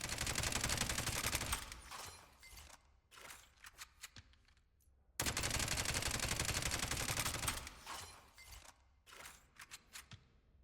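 Suppressed Blackout gun firing in the shooter game Spectre Divide: two long bursts of rapid fire, each trailing off into scattered single shots with short pauses between, loud and sharp, with no voices.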